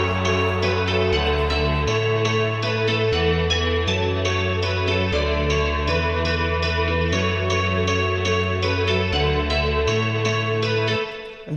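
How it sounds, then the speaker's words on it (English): A remade euphoric EDM guitar melody plays alone, bright, heavily reverberant and chorus-washed notes stepping over a pulsing low bass line, then cutting off at the end. "So I went ahead and I remade the melody to this to try to get a guitar sound similar to the one in this song."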